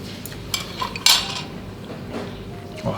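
Lobster meat gets stirred with shallots, ginger, lemon juice and a prepared sauce in a bowl, giving a few close clinks and scrapes of utensil against the dish, spaced out, with no talk.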